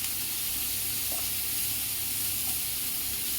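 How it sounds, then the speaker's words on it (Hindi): Onions and dried fenugreek leaves (kasuri methi) fry in hot oil in a pan for masala baigan, giving a steady, close sizzle with soft hiss throughout and no talking. "इसमें मैं प्याज डाल रही हूँ और इसी वक्त मैं कसूरी मेथी डाल दूंगी। इसे रंग बदलने तक मैं भूनूंगी।"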